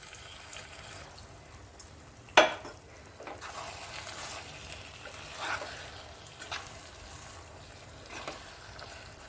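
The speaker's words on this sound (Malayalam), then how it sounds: "ഇതിലേക്ക് ഞാനൊരു അല്പം വെള്ളം ചേർത്ത് കൊടുക്കുകയാണ്." Chicken roast masala in a pan, with water just added, giving a soft, steady sizzle and stirring near the mic, with one sharp clatter early on and a few lighter knocks against the pan.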